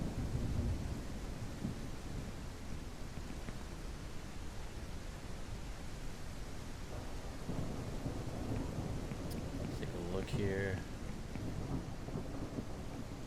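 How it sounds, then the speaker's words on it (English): Steady, hissing rain and rolling thunder fill the horror video game The Crimping, set above the Shanghai tunnels. The storm holds an even level throughout, and a voice briefly speaks near the end. "Rain sounds good."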